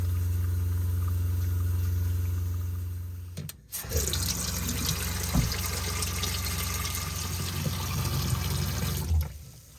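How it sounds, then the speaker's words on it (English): Water runs steadily through the plumbing lines of an RV being flushed with sanitizing solution, a loud continuous rushing hiss that stays even for several seconds after a brief drop, with a low hum underneath. "we're going to run this for a couple minutes and get plenty of the solution running through this line"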